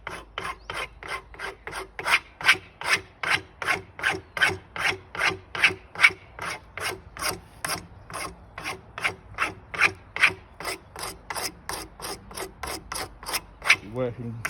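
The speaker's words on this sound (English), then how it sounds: "Always finish it before sanding with a spoke shave." A spokeshave scrapes across a wooden axe handle in steady, rhythmic strokes, about two or three per second, each a crisp rasping pass, close and clear.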